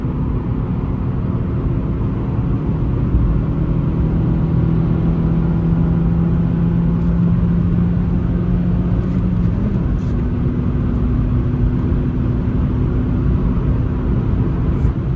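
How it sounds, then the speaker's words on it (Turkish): Fiat Egea Cross with a 1.4 Fire petrol engine accelerating at full throttle, a steady loud engine drone and road rumble throughout, with a rising tonal hum that shifts pitch around the middle, heard from inside the cabin. "Şu an dip gaz gidiyorum."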